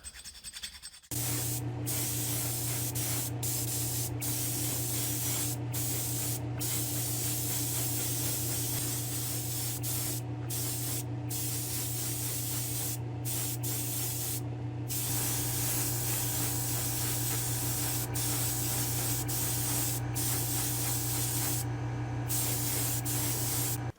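A spray gun coats a cleaned-up motor part for a paint job, giving a steady, loud, close hiss that runs almost unbroken for the whole stretch, with a few brief clicks and dropouts along the way.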